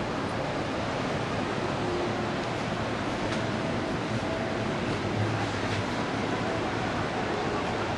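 Surf rolls in at Waikiki Beach, a continuous broad wash of waves and wind at steady loudness throughout, with a faint distant voice.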